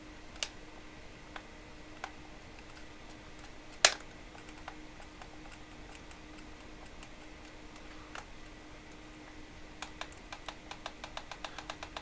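Sharp clicks from the repaired front panel button of a Krups EA81 coffee machine, one loud click near the middle, then a rapid series of small clicks toward the end, all over a steady faint hum.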